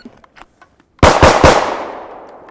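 Three sharp pistol shots ring out in quick succession at a close target just under five yards away, fired from a stock gun, loud and near, each crack blending into a lingering echo after near-silence.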